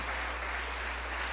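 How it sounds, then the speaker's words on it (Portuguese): A church congregation claps together for Jesus, a steady, even roar of applause from many hands across the hall, brief and unbroken with no speech. "Aplaude a Jesus por isso."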